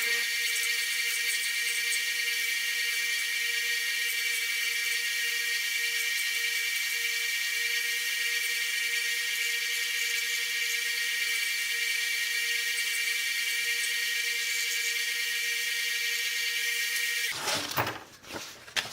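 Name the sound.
small bench sander running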